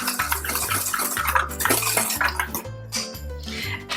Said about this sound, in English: Combine the flours.